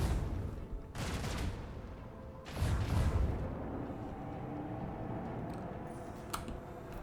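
Macro cannons firing in the video game Warhammer 40k: Rogue Trader: two heavy booming volleys over a constant low rumble, followed by quieter crackling impacts and a faint sharp click near the end.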